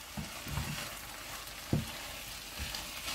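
Squid pieces simmer with melted cherry tomatoes in a pan for a Provençal-style stew, giving a soft, low sizzle broken by a few light utensil knocks and clinks.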